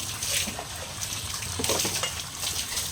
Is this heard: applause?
no